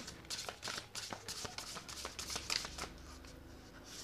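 Tarot cards are shuffled by hand in a quiet room, with a rapid series of soft riffling flicks and slaps that pause briefly and then continue more gently.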